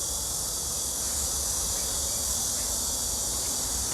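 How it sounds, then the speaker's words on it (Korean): A steady, dense drone of cicadas buzzing without pause, loud and high-pitched, with a faint hiss underneath. "아직도 매미가 많이 우네요"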